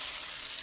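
Hash browns made from scratch frying in a pan, a steady soft sizzle throughout, close and even with no talk over it.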